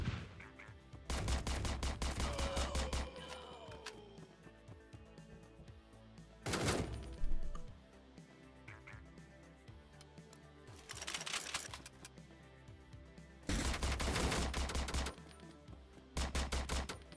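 Bursts of automatic gunfire in the SWAT shooter Door Kickers: Action Squad, several loud rapid volleys separated by quieter gaps, with a short sharp blast in between.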